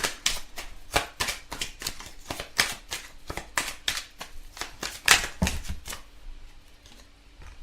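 Oracle cards for a love reading shuffled steadily by hand, a long close series of papery flicks and riffles in an uneven rhythm that fades out toward the end, with no voices.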